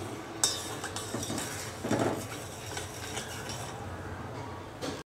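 A metal kadhai (wok) set down on a stove to fry gulab jamun: a sharp clank, then a few softer metallic clatters over quiet kitchen background.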